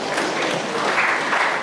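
A crowd claps at an architects' association dinner party, a dense, even wash of applause from many hands that is sustained and moderately loud for the whole short stretch.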